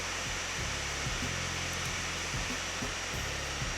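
Gigabyte Aero15S laptop cooling fan running hard while charging, a loud, steady, high whooshing hiss with a faint low mechanical hum pulsing underneath.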